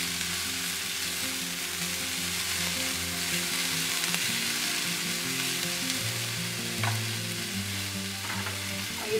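Peas and capsicum fry in a pan for a pizza mac-puff topping, giving a steady broadband sizzle with a low background hum and occasional soft stirring clinks.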